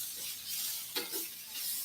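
Mushrooms tossed into a hot pan for a pumpkin sauce set off a steady close sizzle, with a brief clatter as they land partway through and soft stirring noise throughout.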